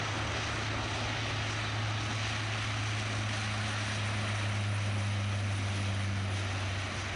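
Jet airliner of Jersey flight 1033 taking off from runway 2 left at Manchester Airport, a steady broad engine roar with a low droning hum holding loud and constant throughout, no voices.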